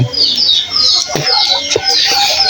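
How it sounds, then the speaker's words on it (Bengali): A flock of about fifty pigeons feeding on scattered wheat alongside a chicken, with bursts of chirps and coos, wing flutters and pecking clicks, busy and close. "এখানে পঁচিশ জোড়া কবুতর রয়েছে"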